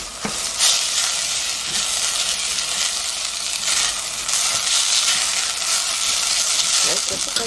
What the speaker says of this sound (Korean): 전복과 살을 볶아줍니다.